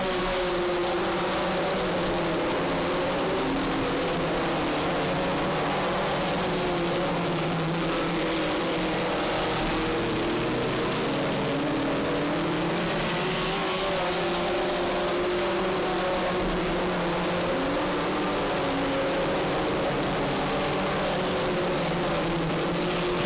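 Race cars roaring around a track at a racing event, a dense continuous engine drone with shifting pitch as the pack passes, loud and unbroken throughout with no talk.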